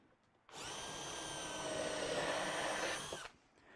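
A power drill whirs steadily for about three seconds, close and loud, then stops abruptly.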